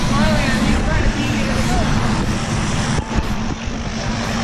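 A skydiving airplane engine drones steadily and loudly throughout, a constant propeller roar with wind buffeting and no clear speech.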